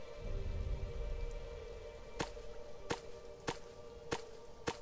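Steady rain falls in the survival video game Sheltered, a faint continuous hiss with a few sharper tapping hits near the end.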